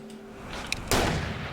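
Single gunshot in the video game Alan Wake, one sharp loud blast bursting out after a second of quiet low ambience, then a lingering tail.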